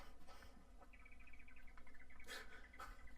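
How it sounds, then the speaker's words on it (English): A bird calls in a quiet outdoor setting, a faint series of rapid repeated notes over low background hum, with a few brief higher chirps toward the end. "Nice bird."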